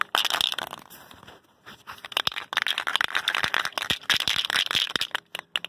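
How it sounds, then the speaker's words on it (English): A spray paint can of gloss apple red is shaken hard for a rim repaint, its agitator ball rattling in quick, steady bursts up close with short pauses. "Okay, shake it up."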